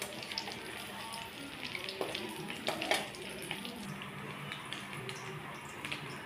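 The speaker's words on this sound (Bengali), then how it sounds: "ডিমগুলোকে আমি ভালো করে ভেজে নেব।" Katla fish eggs fry in hot oil with a steady bubbling sizzle throughout, occasional sharper crackles and spits rising above the continuous hiss.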